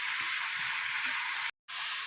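Masala pasta ingredients fry in a pan with a steady, close hiss and sizzle that runs unbroken, cut by a short silent gap before resuming.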